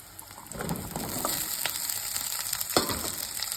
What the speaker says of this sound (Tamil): சின்ன உள்ளி செவந்து வரக்கூடிய அளவுக்கு நல்லா வதக்கி எடுக்கணும்.